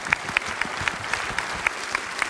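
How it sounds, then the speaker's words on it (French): Steady applause from an audience at an association's general assembly, with a rhythm of distinct, close claps standing out over the dense clapping. "On vous applaudit pour votre engagement"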